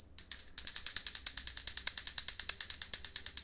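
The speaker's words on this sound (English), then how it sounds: "Rhodium Bell." A chiming Rhodium Bell in a video game rings out in rapid, bright repeated strikes, a brief opening ding followed by a steady tinkling run that continues loud and clear with no talk over it.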